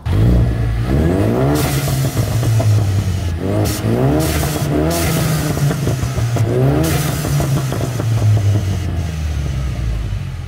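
A turbocharged four-cylinder Ford Mustang EcoBoost with an MBRP race exhaust revs repeatedly, loud and close, rising and falling in several sharp blips over a steady idle.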